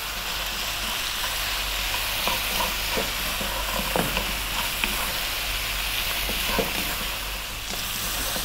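Lamb stew with salt and pepper sizzles in a pot while being stirred, a constant close frying hiss with intermittent scraping and clinks of the spoon against the pot.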